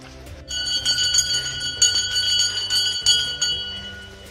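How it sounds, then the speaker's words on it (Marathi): A bell rings with bright, sustained overlapping tones that carry steadily from about half a second in, layered over a low, shifting background. "घंटा"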